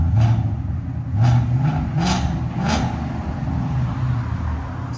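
A 2024 Ford Mustang GT with its 5.0L V8 and Valvetronic Designs mufflers, valves closed, revs hard in several loud, close blips that rise and fall against a steady idle rumble.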